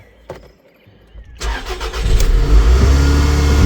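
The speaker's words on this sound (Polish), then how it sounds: "Idę Toyotkę odpalić, zobaczymy." A Toyota car engine cranks briefly and catches, then settles into a steady, loud running idle close by, with no one talking.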